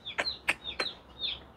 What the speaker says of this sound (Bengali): মোটামুটি মুরগি লাফালাফি করতেছে